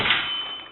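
A Walmart Mainstays metal-frame futon sofa bed bumps against the inside wall of a van, making a single short metallic clang that rings briefly and fades in under a second.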